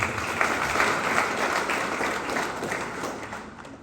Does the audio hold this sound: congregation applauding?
yes